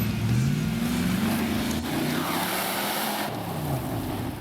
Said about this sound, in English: Marius lets the Rover V8 do the talking. And although it makes beautiful noise